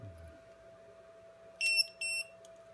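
A small LiPo battery voltage alarm, plugged into a 4S 1550mAh 90C pack, gives two short, shrill electronic beeps near the end of an otherwise quiet stretch.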